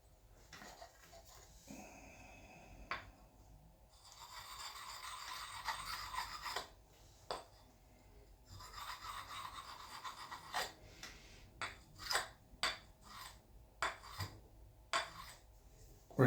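An axe edge, fitted to a white oak handle, is honed to remove the burr, giving repeated short scraping strokes: a longer rasp first, then a run of crisp, distinct swipes with quiet gaps between them, close and fairly soft.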